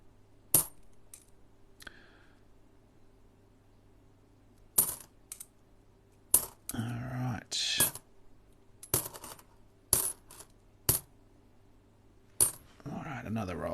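Ten-cent coins spilling from an unwrapped roll, a run of sharp metallic clinks and short cascades separated by pauses, close and crisp, with a longer jingling pour in the middle and faint talk under quieter stretches.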